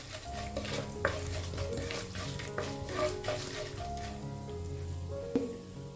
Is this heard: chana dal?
yes